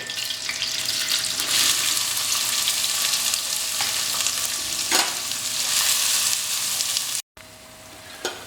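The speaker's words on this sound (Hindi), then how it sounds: "इसके अंदर अब हम प्याज को गोल्डन ब्राउन कर लेंगे।" Onions frying in hot ghee, a loud, dense, continuous sizzle close up with occasional stirring bumps, briefly cut off near the end before resuming.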